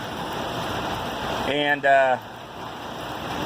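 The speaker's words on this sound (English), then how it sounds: "if this rain lets off and it's decent enough at 4 o'clock in the morning" Steady rain falls and hisses evenly throughout, with a voice speaking briefly in the middle.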